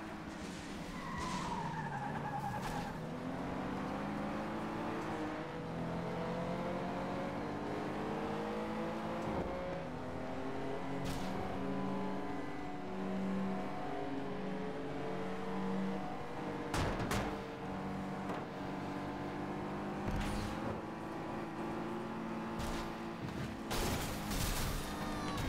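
Cars racing through a city in the FlatOut 2 video game, with constant engine drone, rising and falling revs, tyre skids and sharp crash impacts around 17 and 20 seconds, loud and continuous throughout.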